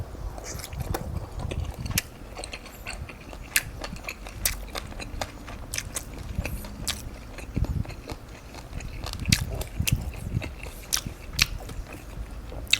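Someone eating dried fish and vegetable stew with sticky rice, close, irregular chewing and crunchy bites with small clicks throughout, no talking.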